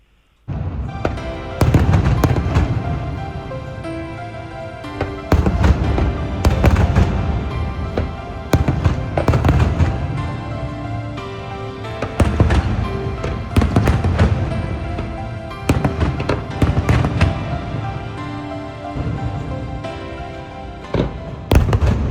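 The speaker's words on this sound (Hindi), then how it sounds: "अब ये फिर से पटाखे फोड़ेंगे" Fireworks bursting in rapid succession over the sea at a show in Phu Quoc, Vietnam, loud booms and crackles overlapping continuously with brief gaps, dense and close.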